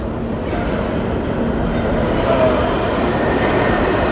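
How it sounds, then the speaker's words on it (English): A train pulls into a station with a steady loud rumble of wheels and carriages, close by and filling the whole stretch without speech. "That train came much faster than I thought."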